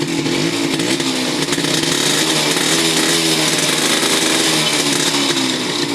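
A two-stroke engine for a tricycle, running on recycled used oil mixed with old gasoline, buzzes loudly and steadily at close range with a raspy, chainsaw-like drone and no pauses.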